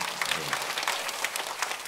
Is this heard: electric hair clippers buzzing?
no